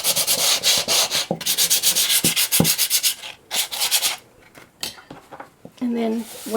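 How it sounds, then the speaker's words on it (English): Wooden bowl being sanded by hand, rapid rhythmic rasping strokes in bursts with short pauses and a few light knocks, close up, with someone speaking briefly near the end. "if it's wooden, you're going to sand it"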